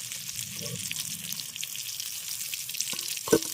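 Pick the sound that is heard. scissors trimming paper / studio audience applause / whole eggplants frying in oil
whole eggplants frying in oil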